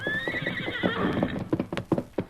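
A horse gives a loud, shrill whinny in an old radio drama. Its hooves then clip-clop in an uneven rhythm close by, with no voices over them.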